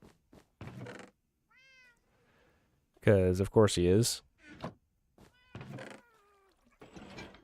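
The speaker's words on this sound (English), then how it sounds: "And now my cat's gonna start singing the song of his people." A pet cat meows repeatedly, with a loud, drawn-out yowling pair of cries in the middle and shorter mews around them, close by, while someone speaks briefly between the calls.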